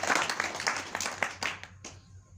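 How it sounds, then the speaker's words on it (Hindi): An audience at an indoor home meeting claps for a guru in a short, close burst of hand claps. The applause thins and fades out within a couple of seconds. "एक बार गुरु के लिए एक बार जोरदार तालियां हो जाए"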